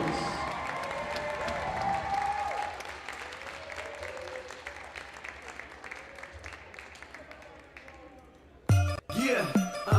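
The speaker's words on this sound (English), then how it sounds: "Let's have one more big round of applause for our 2021 seniors." A crowd in a high school gym claps and cheers in a long, loud round of applause that gradually fades. A burst of louder noise and a voice cut in near the end.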